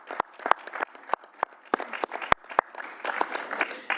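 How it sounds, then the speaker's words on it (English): Applause fills a Senate committee room, scattered individual claps rising into a steady round of clapping from a modest group, close and clear with no talk over it. "let's give her another round of applause"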